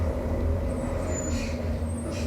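A truck with air brakes passes as a steady, loud low rumble of engine and road noise that holds through the whole stretch, with no clear brake hiss standing out.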